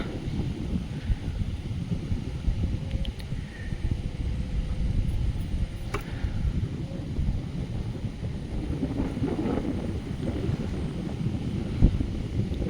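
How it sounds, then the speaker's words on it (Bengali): Strong wind buffets the microphone outdoors beside a muddy road where a man is net fishing, a loud, steady rumbling roar that runs the whole time with no talk. "কিছু কিছু শোনা যাচ্ছে না, এত হাওয়া হচ্ছে তো, প্রচন্ড হাওয়া।"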